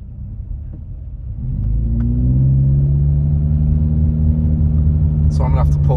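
A bus pulls away nearby on a stormy day in Big Bear, its engine rumbling up from about 1.5 seconds and holding a loud, steady low drone, with a brief high squeal near the end.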